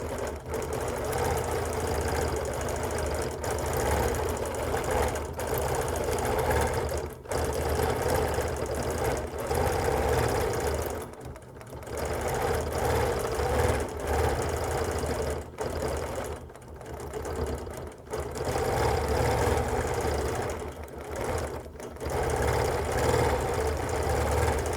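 A sewing machine runs steadily while free-motion quilting a daisy and stippling pattern, its rapid needle hum continuing nearly nonstop with a few brief slowdowns and pauses, close and even.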